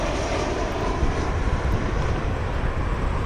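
A Boeing 787 Dreamliner airliner arriving at Cleveland Hopkins International Airport, a steady, loud broadband engine roar with a deep rumble that holds without break.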